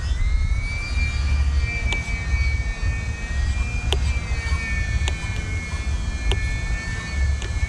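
An E-flite UMX Timber small electric RC plane flying overhead, its motor a steady high whine that rises and falls slightly, with no voices and constant outdoor noise underneath.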